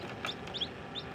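Newly hatched chicks from a DIY incubator give a few faint, high peeping chirps in quick succession over a quiet background.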